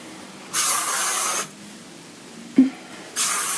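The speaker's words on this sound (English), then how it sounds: "We're just going to spray. This is a flexible spray." Short hissing bursts from an aerosol can of flexible-hold hairspray, three sprays separated by pauses, with a small knock between the last two.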